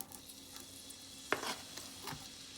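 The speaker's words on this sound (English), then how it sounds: "in the oil, I'm gonna add my finely chopped onions" Finely chopped onions sizzling gently in oil, a faint, quiet hiss with a single sharper clink of a utensil partway through and light stirring after it.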